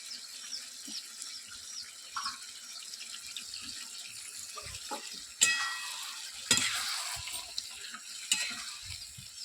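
Washed mutton goes into a hot pan of gravy and is stir-fried, with a low sizzle and louder bursts of sputtering and spatula scraping as the meat is turned.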